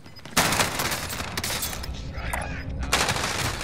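Rapid gunfire bursts in a video game battle royale match, loud sharp cracks filling most of the clip with a dense, sustained barrage and a fresh burst near the end, a sniper rifle shot among them.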